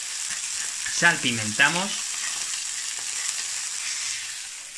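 Entrecote steak fries in olive oil in a hot pan, a steady close sizzle running throughout while someone speaks briefly over it.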